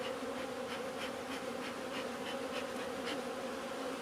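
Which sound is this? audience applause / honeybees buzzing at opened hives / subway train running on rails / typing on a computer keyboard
honeybees buzzing at opened hives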